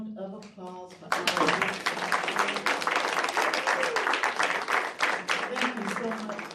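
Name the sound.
audience applause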